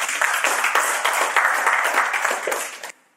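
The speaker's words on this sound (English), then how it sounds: "please give them a round of applause" Audience clapping at the end of a film-making workshop class, a round of close, crisp handclaps in an irregular patter that stops abruptly near the end, leaving near silence.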